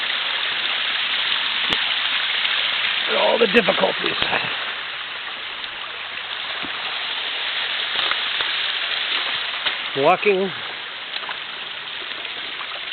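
Steady rushing of a creek waterfall near a house, recorded walking down the creek trail; continuous broadband water flow with a voice speaking briefly twice over it.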